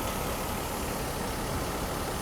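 A Mercedes-Benz R129 300SL engine runs at a steady idle after repairs to its fuel distributor and a fix to swapped ignition leads on cylinders one and two. It gives an even, continuous hum with a broad hiss over it.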